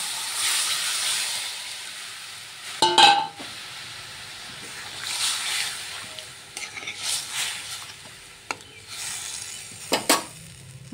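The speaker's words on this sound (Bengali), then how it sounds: "এখন আমি এই যে সিদ্ধ করে রাখা লাউ ডাঁটার সিদ্ধ ঝোলটা এখন আমি ঢেলে দিচ্ছি" Boiled bottle gourd stem broth poured into a pan of hot fried spices, a hissing burst of steam and sizzle with occasional clatters, fairly close, no talk.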